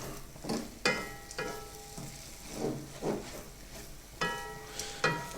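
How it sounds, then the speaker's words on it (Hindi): Makhandi halwa mixture with peanuts being stirred in a pan, with scraping strokes and clinks of the spoon against the metal repeating in an irregular rhythm, close and clear, over a faint background sizzle. "अब इसको मिक्स करते हैं अच्छी तरह"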